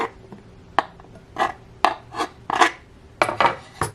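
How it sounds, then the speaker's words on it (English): Butter cubes dropped into dry ingredients in a mixing bowl for Irish einkorn scones, a series of soft separate thuds and light clinks at irregular intervals, quiet and close. "It says to add the butter cubes to the dry ingredients."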